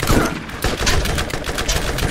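Dense, loud bursts of rapid automatic gunfire from a Borderlands firefight, shots overlapping into a continuous fusillade with no talk over them.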